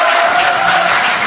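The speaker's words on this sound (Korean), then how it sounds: "박수 부탁드립니다" Studio audience clapping and cheering for a guest on a Korean political talk show, a dense, steady wash of applause filling the whole moment at close, loud level with no pauses.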